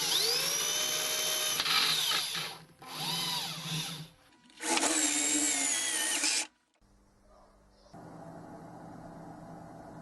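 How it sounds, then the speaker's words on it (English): A power drill bores a clearance hole for an M6 bolt through aluminium, its motor whining loudly in two long bursts with a short pause between, then stopping, leaving a quieter background hum. "I cut it with a hacksaw and then drilled a clearance hole for an M6 bolt."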